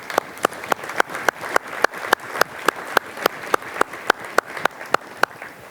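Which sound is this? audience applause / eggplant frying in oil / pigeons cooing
audience applause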